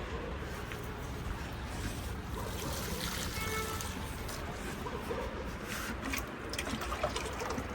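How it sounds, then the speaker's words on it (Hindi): Water trickles and drains off a home balcony after potted plants are watered, a steady close liquid flow with occasional drips and faint background voices. "ये सब नीचे जा रहा पानी।"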